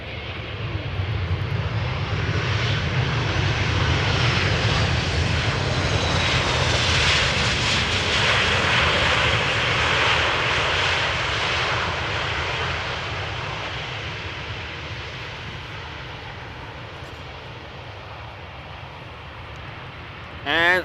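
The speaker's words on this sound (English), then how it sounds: "To fly downwind and land on this runway." A fixed-wing airliner passes overhead at Amsterdam Schiphol Airport. Its engine roar is loud and steady throughout, swelling toward the middle and then easing slightly as it moves away.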